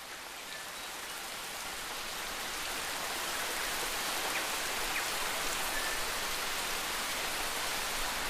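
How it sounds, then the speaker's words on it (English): Steady rain falls outdoors at the base of Snæfellsjökull glacier in Iceland, a dense, even hiss that builds slightly and continues without a break, with no voices. "It's raining"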